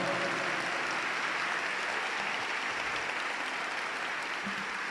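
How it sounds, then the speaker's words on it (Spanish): Steady applause from an audience at a mental health diploma lecture, even and moderately loud clapping filling the room without pause. "un aplauso fuerte para Ramón Carrillo"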